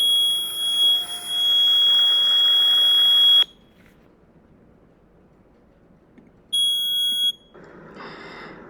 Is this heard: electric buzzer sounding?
yes